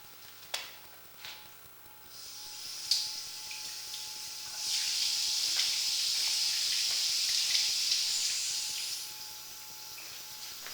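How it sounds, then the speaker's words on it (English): Water running through the plumbing of a house built in 1927, heard after the supply is turned back on: a few faint clicks and knocks, then a steady hiss of flow that swells, holds for several seconds and eases off. "turn the water back on"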